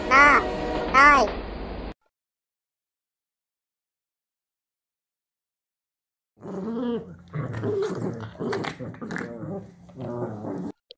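A dog gives two short, loud barks or yelps in quick succession, then silence follows. After that a voice speaks for several seconds, in a Tamil alphabet lesson for children.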